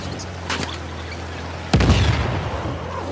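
Gunfire and a heavy explosion in the video game Uncharted: The Lost Legacy, a few faint pops and then a sudden deep boom with rumbling debris, fairly loud against a low background hum.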